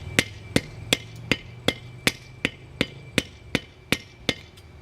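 A hammer strikes an orange military tent stake, about twelve sharp metallic blows at a steady, even rhythm, each ringing briefly, close and clear with no talk.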